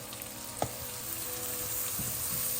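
Onions and garlic sizzle steadily in a pan over medium heat, a close, continuous frying hiss with one brief clatter early on and no talking.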